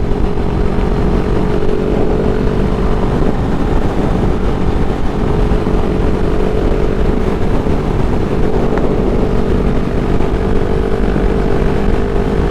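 Honda Rebel 500 motorcycle accelerating uphill in fifth gear on a windy road, a steady loud engine drone heavily mixed with wind rush throughout.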